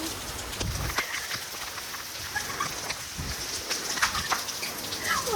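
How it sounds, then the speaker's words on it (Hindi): Steady rain pours down with a dense, continuous hiss, with occasional bird chirps in the background. "देखो बारिश बहुत तेज हो चुकी है"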